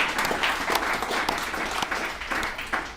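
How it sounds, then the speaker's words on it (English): An audience at an alumni meeting of a recovery services group applauds steadily, with dense, even clapping at moderate volume filling the room for a few seconds. "Let's give Chris another round of applause."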